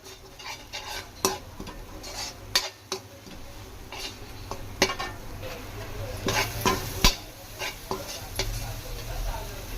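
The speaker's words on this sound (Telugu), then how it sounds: "చూడండి, నేను అడుగంటకుండా ఏ విధంగా ఫ్రై చేస్తున్నాను." Chicken frying in a thick kadai while a spoon stirs and scrapes it, sizzling steadily under repeated clinks of utensil on metal, close and moderately loud.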